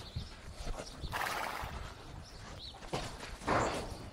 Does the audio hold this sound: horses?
yes